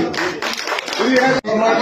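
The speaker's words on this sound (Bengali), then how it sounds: "জোরে একটা হাততালি।" A theatre festival audience in Bengal breaks into brief, dense clapping that fills the hall, with a voice audible over the applause.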